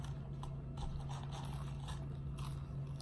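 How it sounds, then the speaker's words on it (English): Someone bites into and chews crunchy fried onion rings up close, soft repeated crunches and crackles in a quiet room with a steady low hum underneath and no talking. "Those onion rings are crunchy too."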